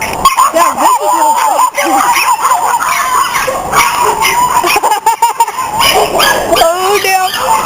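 Several small chihuahuas in a yard bark, yip and whimper in a dense, continuous chorus close by, with a voice and shouting mixed in throughout.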